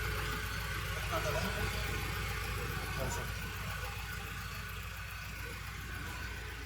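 A Mahindra Scorpio N Z8 Select petrol automatic idles at a fuel station, a low steady engine hum heard close, while people talk over it.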